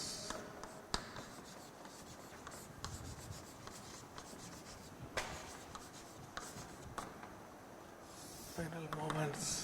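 A pen or chalk scratches out figures by hand during a structural engineering lecture, faint intermittent scraping strokes with a few sharper taps, heard under a lecturer's voice.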